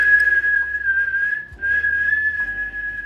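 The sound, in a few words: whistling imitating tribal whistle communication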